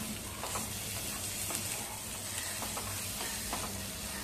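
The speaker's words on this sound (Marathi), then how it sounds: "आता त्याच्यामध्ये आपण हे 2 टोमॅटो घेतले ते पण घालूया आणि आता हा मसाला चांगला परतवून घेऊया एकदा" Roasted coconut masala and two chopped tomatoes being sautéed in a pan over a low flame, with a steady soft sizzle and occasional scraping stir sounds, close and continuous with no voices.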